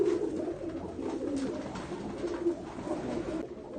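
Pigeons of various breeds coo in a loft, soft throaty calls rising and falling repeatedly over a few seconds, close and moderately loud with no speech.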